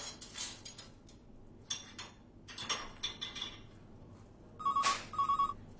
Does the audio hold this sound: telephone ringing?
yes